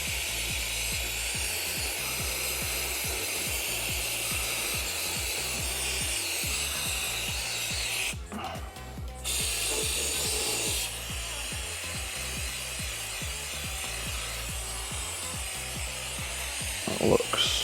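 A cloth rubs oil residue off the plastic engine cover of a Mercedes GLE W166 diesel, giving a continuous close rasping, scrubbing sound in quick repeated strokes, with one short pause partway through.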